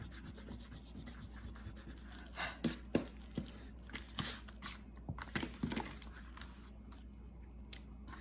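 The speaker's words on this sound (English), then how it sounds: "erase the pencil lines." An eraser rubs out pencil lines on paper in quick, scratchy bursts of friction, soft and close, with short pauses between strokes and no talking.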